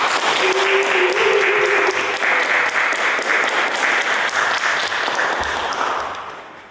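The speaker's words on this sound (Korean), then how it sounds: "힘차게 박수." Dense, loud applause from a congregation at an Easter service in a church, sustained without a break for several seconds and tapering off slightly at the end.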